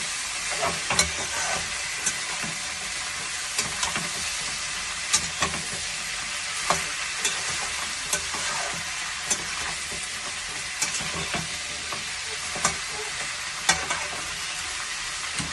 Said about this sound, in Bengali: এবার বাঁধাকপিটাকে আলুর সঙ্গে ভালো করে ভেজে নেব